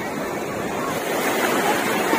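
Sea waves wash onto the beach at Puri in a steady, close, broadband roar that swells slightly toward the end, with some wind noise and no speech.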